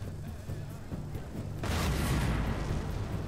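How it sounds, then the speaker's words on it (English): Artillery firing in an Empire: Total War battle, repeated low thuds of cannon fire that swell into a dense, sustained rumble of overlapping booms. "Got my artillery firing."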